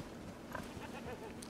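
A goat bleats in the video game Far Cry 5, a brief, faint cry over a low background bed, with no talk over it.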